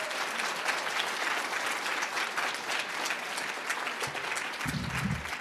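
Applause from the crowd at a spring 2022 speech pathology hooding and pinning ceremony, a sustained even patter of many hands clapping, with a brief voice rising underneath near the end.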